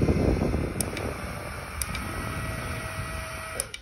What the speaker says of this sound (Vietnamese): kiểu hút gió theo kiểu này thì motor không có cho than nữa thì chạy rất là ồn